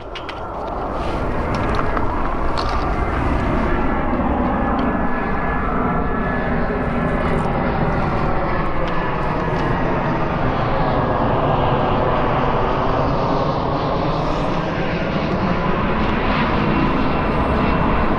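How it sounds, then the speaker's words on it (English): A fixed-wing airplane passes over near Phoenix, its engine roar rising quickly and then holding loud and steady as a long overhead drone with a slow, sweeping pitch shift, and no talking over it. "Plane's coming"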